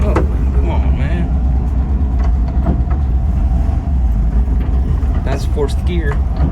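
A 1966 VW Split Bus with dual carburetors and a newer transmission drives in fourth gear, its engine a loud, steady drone and road rumble throughout, with someone speaking briefly over it.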